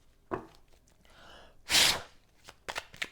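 Tarot cards shuffled for a card reading, a few soft riffles and taps close by with one louder burst in the middle, faint and intermittent in a quiet room.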